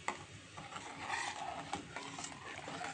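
A spoon stirs soup in a pot, making soft, continuous scraping and swishing at low volume, with faint clinks scattered through.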